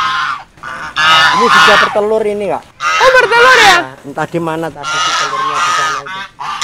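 Geese, a male and a female, honk loudly and repeatedly at close range on a flower-garden agrotourism farm in the mountains of Banyuwangi, their harsh calls mixed with people chatting nearby.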